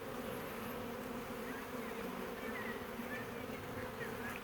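Honeybees at an opened backyard beehive make a continuous, even buzzing drone close to the listener, with the odd bee passing nearer, and no talk over it.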